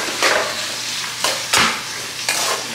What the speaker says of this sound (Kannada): ಇದು ಚೆನ್ನಾಗಿ ಫ್ರೈ ಆಗಬೇಕು ಈರುಳ್ಳಿ ಎಲ್ಲ,